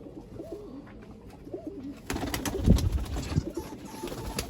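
Pigeons coo in a loft in Jammu, a soft low murmuring from several birds that swells louder in the second half, with a general background hum.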